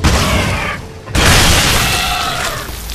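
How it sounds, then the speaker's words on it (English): A close, loud video game explosion from Shadow Warrior (2013) bursts after a short lull, then rolls into a long rumbling decay with crackling debris, set against a continuous dense game soundscape. "I caused that explosion. That one was me."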